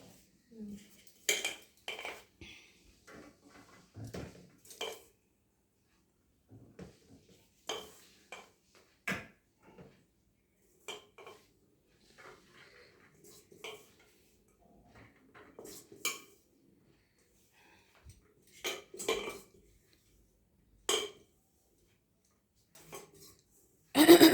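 Plates and serving utensils clink and clatter in scattered bursts as rice is served onto plates at a home lunch, with quiet talk between the sounds.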